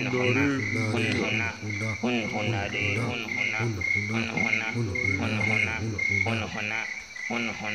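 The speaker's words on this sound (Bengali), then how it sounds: "মেঠো ব্যাঙের দলবল গ্যাঙর গোঙর শব্দ জুড়েছে" A chorus of field frogs croaking in rural Bengal on a quiet evening after rain, used as a story sound effect: loud, overlapping croaks pulse rhythmically over a steady high insect trill, near and continuous, with no talking.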